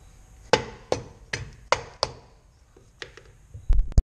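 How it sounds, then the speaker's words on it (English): A soft mallet taps a VW brake drum onto the front spindle of a 1969 Baja Bug, giving about half a dozen separate dull knocks at uneven intervals, close and fairly quiet, with no talking. "use like a soft mallet and tap it on"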